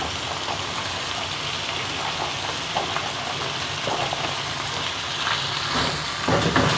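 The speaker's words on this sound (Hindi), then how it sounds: "अब चिकन को इतना फ्राई करना है कि इसका कलर चेंज हो जाए" Chicken pieces and spring onion whites fry in a pan with a continuous crackling sizzle like rain, steady and close, with no talking over it.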